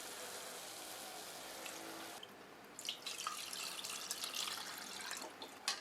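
Prepared buttermilk poured into a pot for Tamil more kuzhambu, a buttermilk curry: a steady close splashing stream for about two seconds, then softer uneven trickling and drips.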